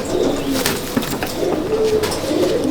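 Black Andhra and Madrasi pigeons at a pigeon loft in Halisahar give repeated soft, close coos, with a brief wing flutter among the calls.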